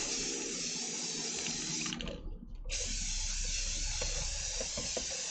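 Steady hiss of water spraying close by, continuous and loud for several seconds, with a brief dip midway before the spray resumes.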